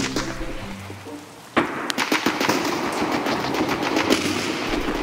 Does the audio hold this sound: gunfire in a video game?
yes